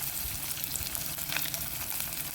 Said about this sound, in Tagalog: Prito tayo ng bulad na masarap ang amoy